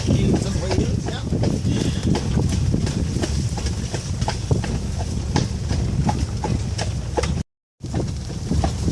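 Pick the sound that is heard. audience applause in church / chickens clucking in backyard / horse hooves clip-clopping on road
horse hooves clip-clopping on road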